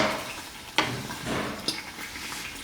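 Eggs stir-fry in a pan on medium heat with a soft, close sizzle, broken by a few sharp scrapes and taps of the utensil against the pan, with no talk.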